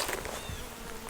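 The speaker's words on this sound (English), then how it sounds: "The bees are bringing in pollen." Honey bees returning to their hive laden with pollen make a continuous close buzzing drone, the hum of many wings overlapping without pause and without speech.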